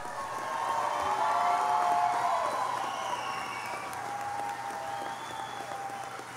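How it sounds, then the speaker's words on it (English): Audience applause for the Brooklyn High School class of 2022 at a high school graduation ceremony, a sustained, fairly distant wash of clapping with a crowd murmur that swells and then eases slightly. "Give them a round of applause."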